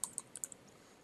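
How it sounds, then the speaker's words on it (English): Faint, sparse keystrokes on a computer keyboard while a link is entered on a Windows PC, with about half a dozen light clicks in an otherwise quiet room. "type in the link that you see me typing here"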